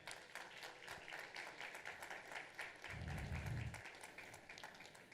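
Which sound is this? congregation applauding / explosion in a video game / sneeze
congregation applauding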